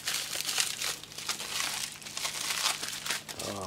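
A soft mail parcel being cut open, with dense, continuous crinkling and crackling of plastic packaging close by and no talk.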